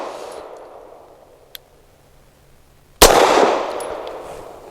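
A single sharp gunshot from a Grand Power Mk23 pistol cracks loudly, followed by a long ringing outdoor decay, after a quieter fading tail and a small click.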